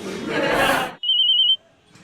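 A telephone rings with a single steady electronic trill lasting about half a second, clear and fairly loud, following a burst of noisy crowd-like commotion.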